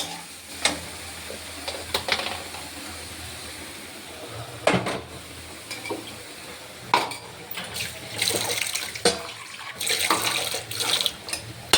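Water added to a pan of pointed gourd and soya chunk curry, with intermittent splashes, sizzles and stirring scrapes over a low steady hiss, close and moderately loud.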